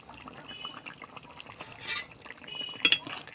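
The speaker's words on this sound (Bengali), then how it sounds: "মাছ দিয়েছি, ফুটছে।" Fish curry with papaya and potato simmers in a pot, giving a faint, soft bubbling with light clinks of a utensil against the pot and a brief hiss near the middle.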